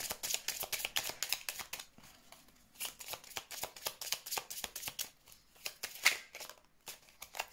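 Tarot cards being shuffled and dealt out by hand: a rapid run of crisp, papery riffles and slaps, close and fairly quiet, with a brief pause before the handling resumes.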